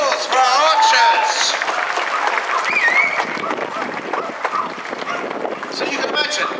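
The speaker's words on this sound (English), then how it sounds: "Round of applause for our archers." Outdoor crowd applause for archers at a castle siege event at Framlingham Castle, Suffolk, with steady clapping mixed with voices, whoops and a dog barking nearby.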